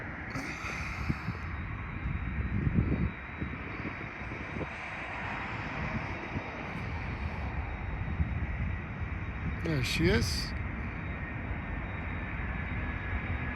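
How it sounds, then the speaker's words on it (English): The engines of an MD-11 airliner near Toronto airport make a broad, steady roar with wind noise. A voice speaks briefly over it. "Oh yeah, I can hear the MD-11 already."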